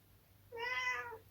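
A single clear meow from a cat indoors near a Kawasaki KZ750 motorcycle, a short rising-falling call lasting about half a second against quiet background.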